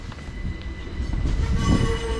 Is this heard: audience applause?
no